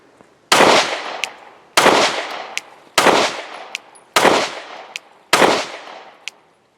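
Five loud, sharp pistol shots from a new 2024 Kimber R7 Mako Tactical handgun, fired at a steady pace about a second apart, each with a short ringing tail and a faint casing clink after, with no talking.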